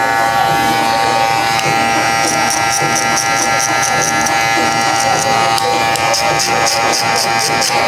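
Electric hair clippers fade a low haircut, buzzing continuously and loudly close up, with a voice talking over the hum and brief higher-pitched bursts.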